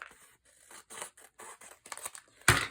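Scissors snipping through recycled yarn bellybands, a handful of short crisp cuts in an uneven rhythm, close up, ending in one louder sharp snip.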